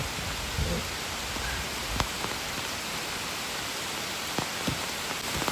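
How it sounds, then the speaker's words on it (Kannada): Rain falls steadily in a soft hiss, with a few louder drops or taps standing out now and then. "ಮಳೆ ಬಂತು ಮಳೆ ಬಂತು ನೋಡಿ"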